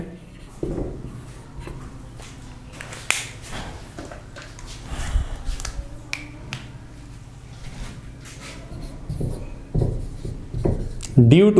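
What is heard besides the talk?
writing notes on a board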